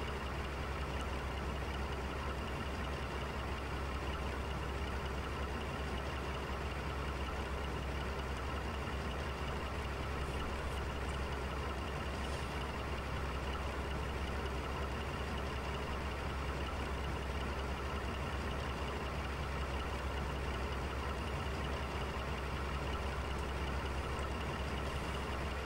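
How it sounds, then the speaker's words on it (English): A railway turntable with a train aboard turning in the video game Train Simulator 2015, a continuous low mechanical hum and rumble that holds steady throughout, with no pauses. "So what will happen now is I'll turn the turntable and the train will jump off the track."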